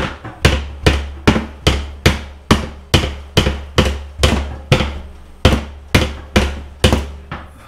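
A hammer taps an attic stair hinge into place, striking about fifteen sharp, evenly spaced metallic knocks, each close and loud with a short ringing decay.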